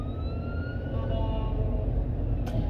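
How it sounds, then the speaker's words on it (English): An ambulance siren wailing past outside, a steady sweeping tone over a constant rumble of traffic, moderately loud and a little distant. "there's an ambulance."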